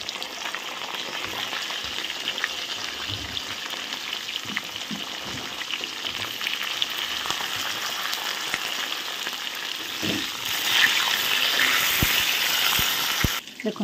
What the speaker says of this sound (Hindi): बैगन को भी लाल लाल कर भाजी नबा